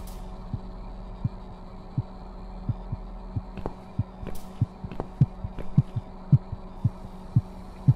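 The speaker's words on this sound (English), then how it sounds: "your heartbeat raises and drops suddenly" A video game heartbeat in a horror game, slow rhythmic double thumps over a low hum, repeating steadily and growing slightly louder and quicker, with a few faint creaks in the background.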